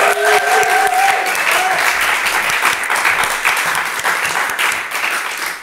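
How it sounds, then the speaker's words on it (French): A crowd applauds loudly and steadily, a dense wash of clapping that holds throughout and tapers slightly at the end, with a few brief voices early on. "Sous vos applaudissements"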